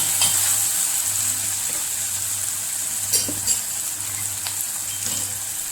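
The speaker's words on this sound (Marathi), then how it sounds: "थोडासा टोमॅटो परतवून घ्यायचा आणि ह्याच्यात भाज्या टाकायच्या" Tomato and vegetables sauté in a pan for vermicelli upma, a steady close sizzle with occasional light clinks of a spoon against the pan, no speech.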